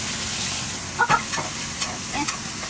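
Onions sizzling in hot oil with ginger and garlic in a pan for a fish curry, a steady frying hiss with a few soft stirring clinks, and no voices.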